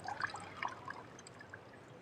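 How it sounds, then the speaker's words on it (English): Water trickling and dripping as it drains quickly through a potted plant's root-bound soil, a few close, soft drips and splashes over a faint steady trickle. "It took literally a few seconds for the water to pass."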